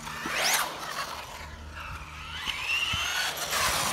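The small motor of a Losi TEN SCBE RC car whines and grinds with scraping, rising and falling pitch as the drivetrain slips, close up with no talking.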